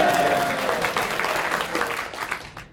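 An audience at a SQL Saturday keynote in Baton Rouge gives a dense, loud round of applause that holds steady and thins out near the end.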